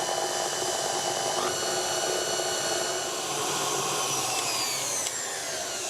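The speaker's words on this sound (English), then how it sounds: "And then we're going to mix that just for a couple of minutes until it has all combined, again on a medium to high speed." An electric mixer at medium to high speed whirs steadily while blending eggs and vanilla into banana bread batter, a loud, continuous motor drone with no voices over it.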